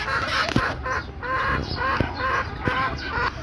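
A hen strains to lay an egg with repeated throaty clucks and drawn-out calls at close range, alongside a few soft knocks.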